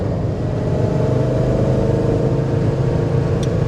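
A Maserati V8 in a Citroën sports car revs hard and steadily, close and loud, a dense engine roar with no talk over it.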